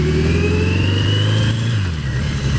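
A Yamaha XJ650 Maxim motorcycle engine revs up close, a loud, continuous throaty drone whose pitch climbs and then eases off over a couple of seconds, with no voices over it.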